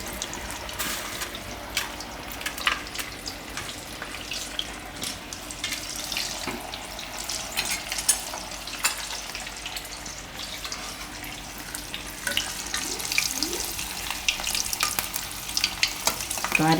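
Maggi-coated potato rolls deep frying in hot oil on a lowered gas flame, a steady close sizzle with crackling pops and bubbling that runs throughout, growing slightly busier near the end.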